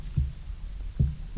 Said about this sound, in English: Just heartbeats. Now, if you listen hard, you can hear them.